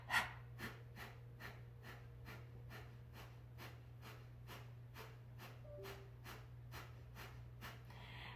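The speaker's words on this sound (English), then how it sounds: "that was your Kapalabhati breathing" Kapalabhati breathing during a beginner stress-relief yoga session: a long, even train of rapid, sharp nasal exhalation puffs, about two per second, quiet and close, over a steady low hum.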